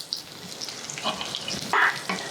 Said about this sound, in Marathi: रवा ना मंद आचेवर एकसारखा मिसळत खरपूस भाजून घ्यायचा.